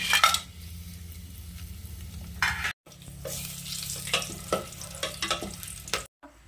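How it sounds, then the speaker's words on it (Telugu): Whole biryani spices fry in hot ghee with a bright, crackling sizzle, while a spoon scrapes and clinks against the pot, cut by two short silent gaps. "నెయ్యి వేసాక ఫస్ట్ బిర్యానీ ఐటమ్స్ అన్ని మసాలాస్ అంతా వేసేయాలి"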